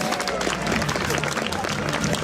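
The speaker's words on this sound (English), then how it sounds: "Let's have a round of applause for our fighter" Audience at a village faire applauding a German longsword fighter after a bout: a steady wash of crowd clapping, moderately distant, with voices and cheering mixed in.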